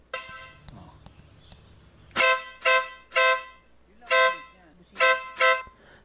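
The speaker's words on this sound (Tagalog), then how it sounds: "Okay, tirahin natin yung busina mo." A motorcycle horn on a big bike with an auxiliary blinker fault honks six times in short blasts, some paired, loud and close, with quiet background noise between.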